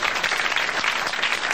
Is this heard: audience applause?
yes